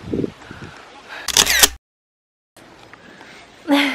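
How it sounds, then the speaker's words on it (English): A camera shutter clicking while taking a selfie outdoors on a rabbit island in Japan, a short loud mechanical click burst amid soft ambient sound and brief speech. "I should take a selfie."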